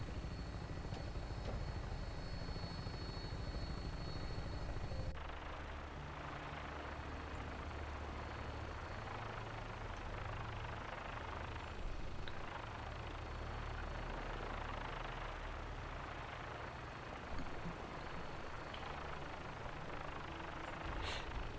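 An Osprey-like tiltrotor aircraft flying in the game Fallout 4, a loud, steady rotor and engine drone that changes character after the first few seconds and continues throughout without talk.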